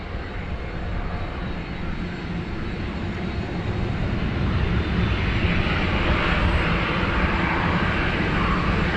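A Qantas jet airliner roars steadily on takeoff at rainy Sydney Airport, a loud broadband engine rumble that swells and grows brighter over several seconds, with no voices.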